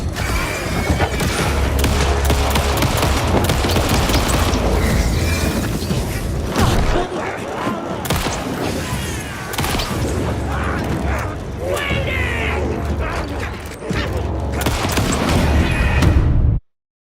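Dense rapid gunfire rattles almost nonstop in Alan Wake 2, with booms and metallic clanks in a loud game soundscape and occasional voices.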